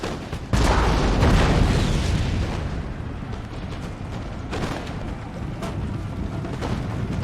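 Cannon artillery fires in Napoleon: Total War, a heavy boom opening loud and rumbling before settling into a sustained low battlefield roar with further distant thuds.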